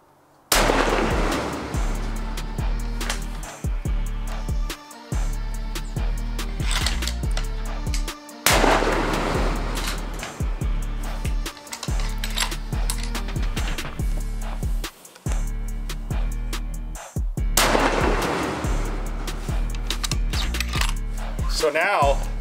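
Rifle shots at an outdoor range, fired as a group with a muzzle covered in electrical tape: several loud sharp reports spaced seconds apart, each trailing off amid ongoing background noise.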